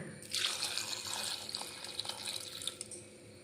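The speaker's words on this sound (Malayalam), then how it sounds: "ഞാൻ ഇനി ഇത് വേവിക്കാൻ ആവശ്യത്തിന് വെള്ളം ഒഴിച്ചു കൊടുക്കുകയാണ്" Water pours steadily into a cooking pot of cashew nut curry for a few seconds, a continuous splashing stream with no voices.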